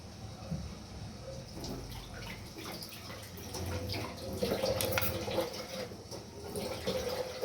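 Vegetables, including onion and green chilli, rinsed under a running kitchen tap, with steady water flow and splashing close by, faint dripping and a little background voice.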